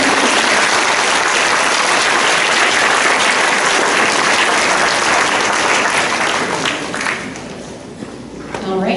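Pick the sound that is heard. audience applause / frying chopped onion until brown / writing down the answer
audience applause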